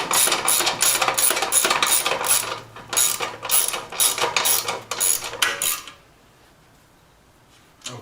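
A ratchet bolts up the exhaust parts on a Sabre cafe racer motorcycle project: quick, loud bursts of clicking come close together in an irregular rhythm, then stop and leave near silence.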